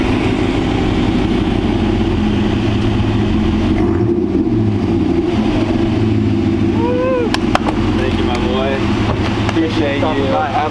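A Dodge Durango fitted with a Carven Super B exhaust kit idles with a deep, loud, steady rumble and low revving, while people talk and cheer over it nearby.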